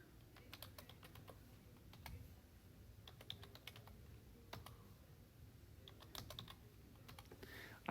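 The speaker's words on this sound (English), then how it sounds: "Type in all your data." Light keystrokes entering data into a matrix, soft irregular clicks at close range, sparse at first and then in quick clusters, with no voices.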